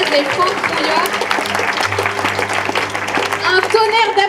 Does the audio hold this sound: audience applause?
yes